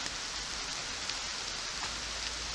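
Steady rain falls outdoors, a continuous even hiss of drops with no voices and no pauses.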